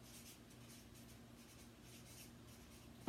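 A pencil or pen writes a name on paper in a quiet classroom, close-up scratchy strokes repeating steadily for a few seconds over a low background hum, ending with a sharp bump.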